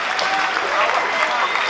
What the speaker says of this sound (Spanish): Por favor, un aplauso muy grande.